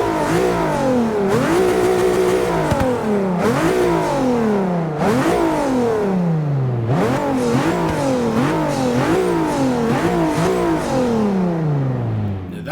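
Nissan GT-R R35 with a 3.8-litre twin-turbo V6 in the Forza 6 racing game, revving loudly and repeatedly through rising gear sweeps and shifts, a continuous close engine howl with no talking.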